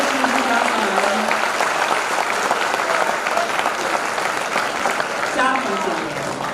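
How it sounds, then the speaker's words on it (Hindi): Loud audience clapping at a Hindi poetry gathering, continuous and dense throughout, with a voice speaking faintly over it at the start and again near the end. "एक बार जोरदार तालियां बजा दो"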